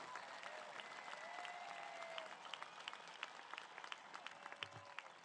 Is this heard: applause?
yes